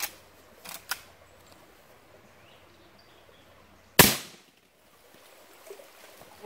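Gunshot from a handgun loaded with reloaded 240 grain lead bullets, fired over a chronograph in an enclosed space: one sharp loud crack with a short echoing decay, preceded by faint clicks.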